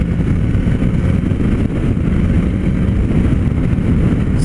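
A Suzuki GSX-S1000 GT sport-touring motorcycle cruises along a road, its engine a loud steady drone blended with heavy wind rush, continuous throughout without speech.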